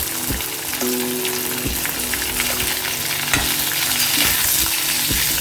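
Snake gourd, potato and drumstick sauté in a pan for sambar: a loud, dense sizzle close by, broken by regular scraping and clunking stirs of a ladle against the pan, with no voices.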